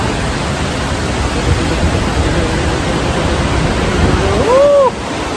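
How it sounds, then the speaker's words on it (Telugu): Fast water released at Srisailam Dam rushes in a loud, continuous broadband roar, steady and close throughout, with a brief tonal whine near the end and no talking. "నీళ్ళు అట్లా పోయి అసలు నీళ్ళ మీద వెళ్ళిపోతుంది చూస్తే రెండు కళ్ళు సరిపోవట్లా మనకి అంత వేగంగా ఉండే వాటర్ మామూలుగా లేదు"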